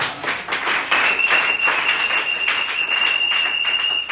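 A congregation at a Sunday church service bursts into steady, dense applause, a thick wash of many hands clapping together at constant loudness for several seconds.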